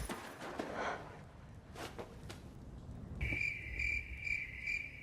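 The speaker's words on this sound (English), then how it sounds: "The Crickets." Crickets chirp in a steady, pulsing trill that starts partway through, following scattered faint rustling and thumps in a quiet setting.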